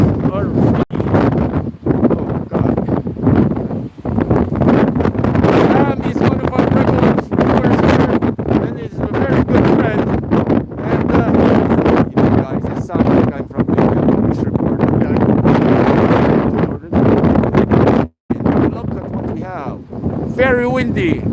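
Strong wind gusts roar continuously across a microphone on a snowy mountain, loud and buffeting with brief lulls, while a person talks intermittently beneath the rush.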